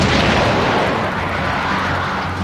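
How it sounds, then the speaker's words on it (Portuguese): The battleship Rodney fires a salvo from its 16-inch guns during the naval battle against Bismarck. Heavy, continuous booming rumble fills the whole stretch, loud and dense with no pauses, and no voices. "O Rodney disparou primeiro uma salva maciça dos seus canhões de 16 polegadas."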